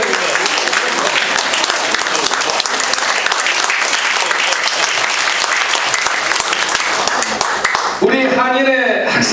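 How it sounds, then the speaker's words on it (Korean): A crowd at a Korean community gathering applauds fourth-generation students: continuous dense clapping from many hands, loud and even for most of the stretch, then breaking off near the end as a voice begins speaking. "우리 이 학생들을 위해 박수 한번 쳐주십시오"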